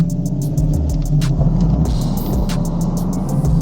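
A lowered Nissan 370Z Nismo on a test drive, its engine giving a steady, close, throaty drone with rising and falling revs under continuous road rumble.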